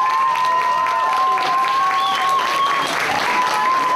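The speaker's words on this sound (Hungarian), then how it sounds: "Tapsoljuk meg," A festival crowd applauds a contestant in a chili-eating contest at a chili festival in Solymár, with dense, steady clapping filling the whole stretch and a faint voice underneath.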